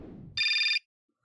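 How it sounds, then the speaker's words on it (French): A telephone ringing in the video game Syberia, a single short electronic bell trill heard loud and alone just after a brief low voice fades out. "Téléphone."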